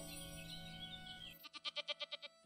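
A goat bleats in the farming video game Everdream Valley: a quick run of about seven sharp, evenly spaced bleats rings out close and loud, right after a bed of soft game music cuts away.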